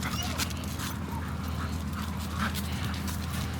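A dog gives soft, high whimpers and yips over a constant low background hum, with the cries coming in brief scattered bursts at moderate distance.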